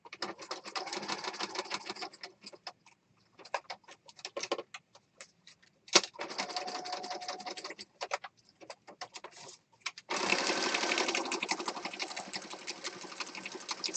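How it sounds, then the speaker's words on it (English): Sewing machine stitching along the edge of a mixed media piece made with fabric and gel prints, quiet rapid chattering runs broken by short pauses, ending in a longer steady burst of stitching. "I think I'll just stitch along this edge"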